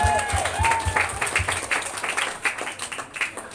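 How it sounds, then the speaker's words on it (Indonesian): A crowd claps loosely and unevenly for a few seconds, with voices mixed in and a whistle-like tone rising through it, at an Isra Mi'raj gathering at a prayer house. "Tepuk tangan boleh."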